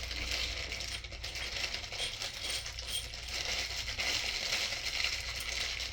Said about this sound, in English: put the screws in there.